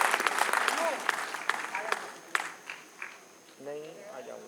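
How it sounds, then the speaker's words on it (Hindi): Scattered audience clapping at a poetry gathering in Agra, sharp individual claps rising and thinning out over a few seconds, with a voice speaking over the end. "सब मिलकर तालियां बजाइए और बुलाइए सोनरूपा।"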